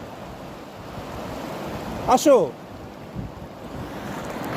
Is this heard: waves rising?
yes